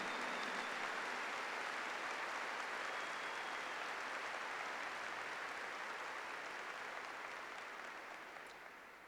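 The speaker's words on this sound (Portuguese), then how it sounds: "Give the Lord a big clap." A church congregation claps for the Lord during a sermon, a steady, dense wash of applause from many hands, sustained and fairly distant before fading slightly at the end.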